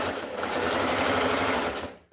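A sewing machine top stitching the band of a shirt sleeve runs steadily at speed, a loud, close, continuous mechanical whir with rapid needle rhythm, stopping abruptly at the end with no talk.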